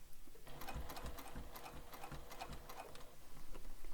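A sewing machine stitches fabric for a bag, the needle running steadily with a fine rapid patter and small clicks throughout, close and fairly quiet.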